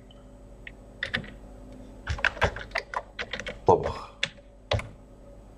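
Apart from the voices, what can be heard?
typing on a computer keyboard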